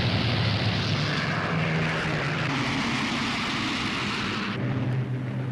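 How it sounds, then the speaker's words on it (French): Boeing B-17 Flying Fortress bombers take off from airfields in southern England during the Second World War. Their propeller engines make a loud, dense, continuous roar that fills the entire stretch without a break. "Boeing B-17, les forteresses volantes, décollent d'une vingtaine d'aérodromes disséminés dans le sud de l'Angleterre"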